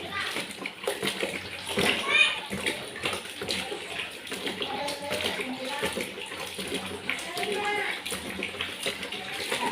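Something being washed by hand in a basin of water, with steady sloshing and splashing, running water and a voice speaking over it throughout.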